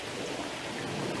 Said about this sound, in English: You can probably hear the rain on the roof.